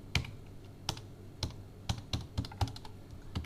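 Sharp separate keystrokes on a computer keyboard, with the enter key pressed while payroll hours are entered. About nine clicks fall at an uneven pace, close and fairly quiet, with no voices.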